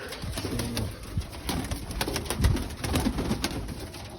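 Several pigeons coo softly and repeatedly nearby, their low throaty calls overlapping amid faint shuffling and rustling.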